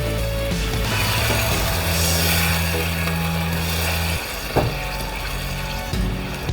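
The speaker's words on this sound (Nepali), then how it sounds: "अब यसमा कतिको ग्रेभी खाने हो आफूले त्यो अनुसारले पानी राखौँ" Water is poured into a chicken tikka masala gravy, a steady close pour that stops partway through, leaving a few clatters and a quieter bubbling hiss.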